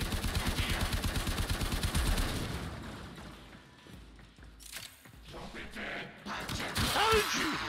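Explosion and rapid gunfire in the Warframe video game: dense bursts of automatic fire for the first couple of seconds, followed by scattered impacts and thuds, with more blasts near the end.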